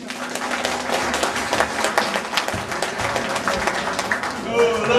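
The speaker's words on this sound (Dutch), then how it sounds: "Geef hem een keihard applaus." Applause and cheering break out from a country and western concert audience in Amstelveen for a pedal steel guitarist, the clapping irregular and busy under crowd chatter, with a brief tone near the end.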